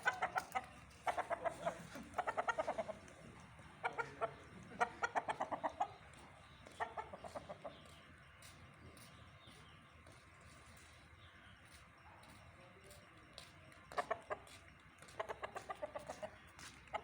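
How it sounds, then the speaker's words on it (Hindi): A desi and Aseel cross rooster clucks in repeated bursts on a poultry farm, close and fairly loud, with quieter gaps between the runs of clucks. "मुर्गा मिक्स ही है, देसी और असील का क्रॉस है"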